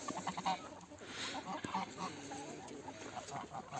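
Chickens, geese and roosters clucking in a busy backyard flock, including young roosters, with overlapping calls at close to medium range over steady outdoor background noise.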